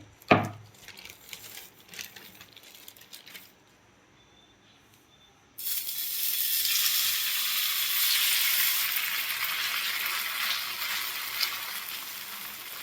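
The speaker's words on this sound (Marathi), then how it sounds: "तर मी तव्यामध्ये तेल पण घातलेलं आहे बघा. आता यामध्ये मी थालीपीठ टाकणार आहे." Sago (sabudana) thalipeeth for fasting hits hot oil on an iron tava: after a few soft clatters and a quiet pause, a loud, steady, close sizzle starts and holds to the end.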